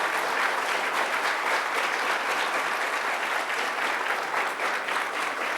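Steady, dense applause from a large audience at a public security agents' award ceremony, continuous and even for the whole stretch with no voices over it.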